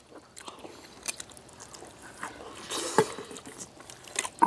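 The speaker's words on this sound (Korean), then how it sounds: "오래 씹어야 된다는데 오래 씹을 게 없네" Close, soft chewing of red radish rice in a rustic Korean meal, with irregular moist bites and small crunches scattered through a quiet room.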